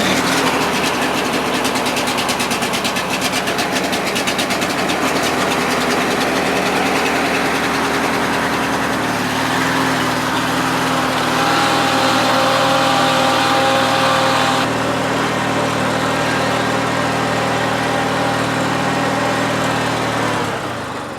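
A Murray Select 14.5HP 42-inch widebody lawn tractor engine running steadily, a loud continuous close-up drone that shifts slightly in pitch partway through as the throttle changes.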